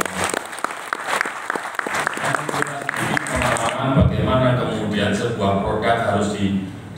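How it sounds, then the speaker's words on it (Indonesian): Scattered applause from an audience at a Semarang packaging program event for small businesses, a few seconds of clapping before speech takes over over a room murmur. "Tepuk tangan dong"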